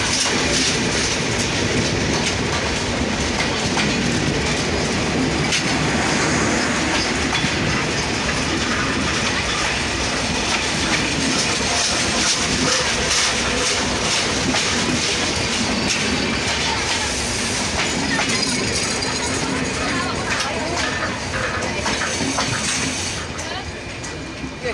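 The Up Nilsagar intercity express, hauled by American-built locomotive 6627, rolls into platform 1 at a station in Nilphamari with a loud, steady rumble and rhythmic wheel clatter that continues throughout.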